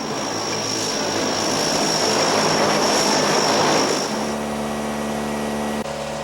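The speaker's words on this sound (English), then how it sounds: "Inky made a strenuous 4-hour flight to Florida on a Navy cargo plane" A Navy cargo plane drones in flight, its propeller engines giving a loud, continuous roar with a steady tonal hum that shifts slightly in pitch near the end.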